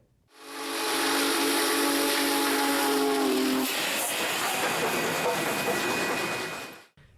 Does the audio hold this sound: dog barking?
no